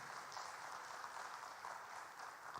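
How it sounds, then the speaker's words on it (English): Audience at a regional conference on good governance practices giving a long, steady round of applause, dense clapping that fills the hall from start to finish with no voices over it. "And I'll request the audience to give a big applause to Mr. Chanchal Shekhar."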